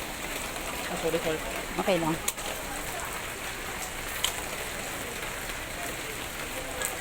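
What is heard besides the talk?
rain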